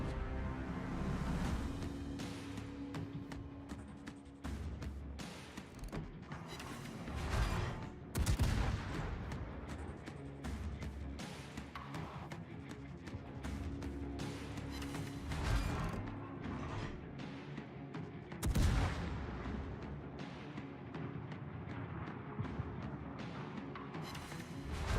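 Warship gun salvos in World of Warships, heavy booming blasts spaced out over a background of steady mechanical rumble and creaking, with two especially loud salvos standing out.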